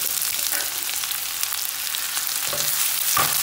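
Onions frying in hot mustard oil make a loud, dense, steady sizzle, with a few soft stirring knocks toward the end and no talking.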